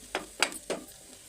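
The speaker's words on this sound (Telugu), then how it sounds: "ఇలా మన మటరు ఇంకా పొటాటో మిశ్రమాన్ని మొత్తం కలిసేటట్టు" Three quick scraping stirs of a pea and potato kachori filling in a pan, close and soft, each stroke a short gritty swish over a faint background hiss.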